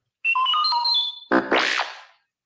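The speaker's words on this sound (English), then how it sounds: "You will know it is time to turn the page when you hear R2-D2 beep like this." An R2-D2-style electronic beep signals a page turn in a read-along Star Wars storybook: a short run of warbling, chirping tones followed by a rising and falling whistle, clear and alone.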